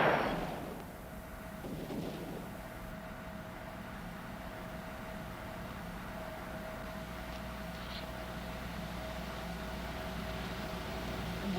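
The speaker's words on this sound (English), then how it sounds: "Was that gunshots?" Muffled gunshots sound far off outdoors, a couple of dull reports near the start over a steady background hiss with no voices, in an action crime film scene near an old cemetery.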